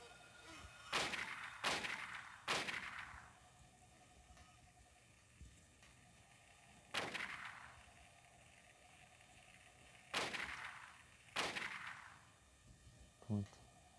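Gunfire in the Silent Hill video game rings out in sharp, loud reports, a quick burst of three, then single shots and a pair spaced over the stretch, each with a short decaying tail, and no talking between them.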